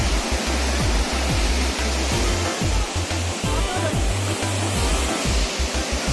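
Beach waves breaking below a seaside guesthouse in Sumur Tiga, Sabang, a continuous loud wash of surf with wind-like rumble and no clear voices.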